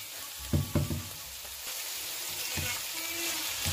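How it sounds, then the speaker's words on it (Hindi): Capsicum fries in a pan for mushroom biryani, a close, steady sizzle with a few knocks of stirring near the start and middle, with no talk. "3 मिनट जो है अच्छी तरह इसको फ्राई करेंगे ताकि जो कैप्सिकम है वो थोड़ी सी नरम हो जाए"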